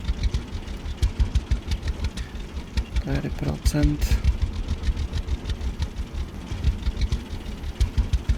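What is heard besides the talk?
tractor engine running in Farmer's Dynasty video game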